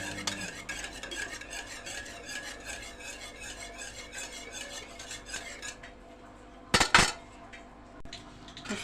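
Homemade liquid soap, made from a single bar of laundry soap, stirred by hand in a pot, giving a steady run of close scraping and swishing strokes, followed by a few louder knocks near the end.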